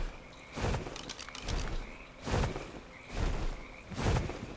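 A blue frog in the video game Ark croaks in a steady rhythm, about five loud calls roughly a second apart over a faint background, with no voices.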